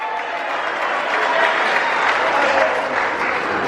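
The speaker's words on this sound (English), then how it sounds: "Everybody clap it up for Dad here tonight." At a wedding reception, guests clap for the father with a loud, dense burst of applause that holds evenly throughout, blended with crowd noise and cheering.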